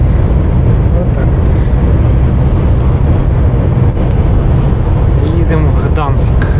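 A car drives toward Gdańsk in a storm with strong wind, a dense, loud roar of road and wind noise buffeting the cabin throughout, with brief voices near the end.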